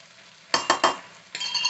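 Salt is stirred into a ridge gourd milk curry: a spoon scrapes and clinks against the pan in three quick strokes, then a longer scrape, up close over a faint simmer.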